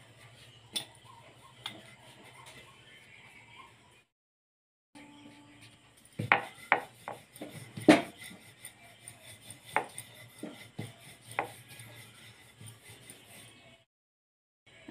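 A wheat dough ball for paratha is rolled out round with a rolling pin: faint, soft thumps and light taps come in irregular clusters, with quiet pauses between.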